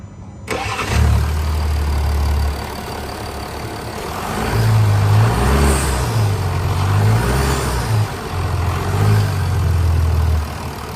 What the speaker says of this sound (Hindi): आइए डीजल इंजन की साउंड सुनते हैं।